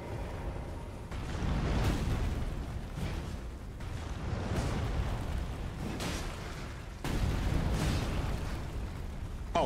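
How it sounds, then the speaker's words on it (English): An Elden Ring: Shadow of the Erdtree boss kicking fire at the player, a series of loud whooshing fiery bursts and booming impacts recurring every second or two. "He's still kicking fire at me"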